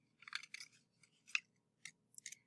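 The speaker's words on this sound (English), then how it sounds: "I'm making two cuts from the outside of my paper to my tree" Scissors snip through paper to cut a tree shape in a series of quick, close, crisp cuts, arriving in short clusters with brief pauses between them, and no talking.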